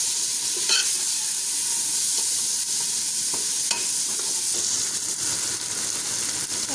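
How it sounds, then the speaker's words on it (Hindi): Ground beef for keema karahi sizzles steadily in hot oil over high heat, with occasional scraping and stirring clicks from a utensil, close and continuous. "मैं इसको 5 मिनट के लिए फ्राई कर रही हूँ"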